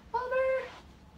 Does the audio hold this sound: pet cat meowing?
yes